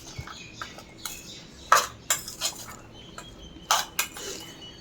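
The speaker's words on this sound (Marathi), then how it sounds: "आता यामध्ये उकडलेले चणे आपण घालून घेऊ आणि हे मिश्रण चांगलं चण्याला कोट होईल हे बघू." Boiled chickpeas being stirred into a spice mixture for garlic chana koliwada, giving a series of sharp spoon-on-pan clinks and scrapes, a few louder knocks spaced irregularly, close and otherwise quiet.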